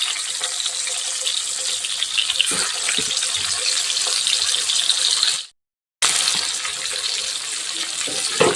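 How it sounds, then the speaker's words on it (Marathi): Bitter gourds fry in hot oil with a steady, dense sizzling hiss that cuts out briefly for about half a second partway through, then resumes at the same level. "आता आपण याच्यामध्ये एक एक कारली तेलामध्ये छान असं तळून घ्यायचे"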